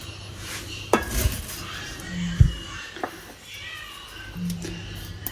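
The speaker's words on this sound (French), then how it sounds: "je vais prendre 2 cuillères à soupe et je vais faire des petits tas" Two tablespoons scoop a chocolate cereal mixture into small piles in a kitchen, giving a few soft metallic clinks and scrapes at scattered moments against quiet background noise.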